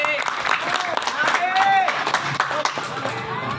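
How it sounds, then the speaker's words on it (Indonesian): An audience at a halal bihalal gathering breaks into applause, brisk clapping mixed with crowd noise and a voice speaking over it, lasting a few seconds. "Boleh tepuk tangan juga."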